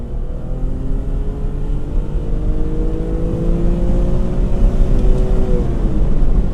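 A 1997 BMW M3 E36 3.2-litre six-cylinder engine with SMG gearbox revs steadily through a drive on winding roads, pitch climbing across gears with a rising, sustained roar close up.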